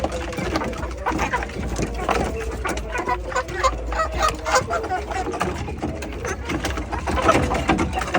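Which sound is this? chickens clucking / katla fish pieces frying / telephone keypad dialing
chickens clucking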